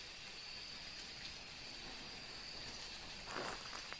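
Steady, soft rain in the game Phasmophobia falls as a constant wash of hiss, with a faint high insect-like whine running through it and a brief louder rustle near the end.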